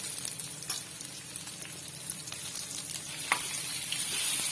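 Boiled potatoes frying in hot spiced oil for a spicy potato fry, with steady crackling sizzle and occasional scrapes of a spoon stirring in the pan, close and continuous without talk.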